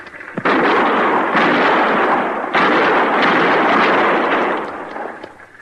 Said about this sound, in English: Use your rifle, Chester.